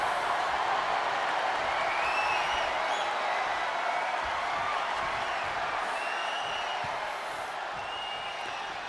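A large arena crowd at a women's wrestling match cheers and roars as a steady, dense wall of noise, loud and continuous throughout with faint whistles on top.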